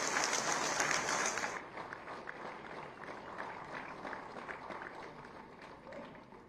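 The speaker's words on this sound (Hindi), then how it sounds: "आप सभी की अनवरत तालियां इन क्षणों के लिए अपेक्षित है।" Sustained audience applause at an Indian government loan-scheme ceremony, loud dense clapping at first that drops to a quieter steady patter after a couple of seconds.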